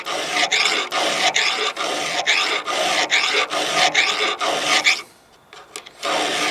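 A hand file rasping across a chainsaw tooth to sharpen it, steady loud back-and-forth strokes in a regular rhythm, close up, pausing briefly near the end before resuming.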